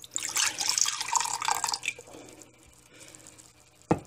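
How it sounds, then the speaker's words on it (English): Apple cider poured into a mug, a bright splashing liquid stream that runs strongly for about two seconds and then thins to faint dribbles, ending with a sharp clink near the end. "Next step, pour it into your mug."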